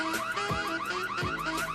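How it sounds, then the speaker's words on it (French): A house alarm blares a loud, continuous electronic warble that rises and repeats in quick cycles, with no voices over it. "Oui, monsieur, l'alarme s'est déclenchée."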